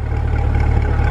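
2020 C8 Corvette engine running at a steady, loud idle, a deep continuous rumble with no talk over it.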